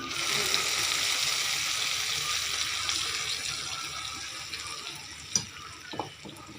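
Liquid pours in a steady, close rushing stream into olive sour chutney in a kitchen, thinning out toward the end with a few small knocks and clinks.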